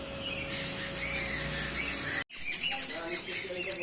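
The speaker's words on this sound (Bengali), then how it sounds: "এসে দেখছি পাখিরা ঝগড়া করছে।" Birds squabble in a flowering kanchan tree in a garden, with sharp squawks and chirps over a busy background as a person talks nearby.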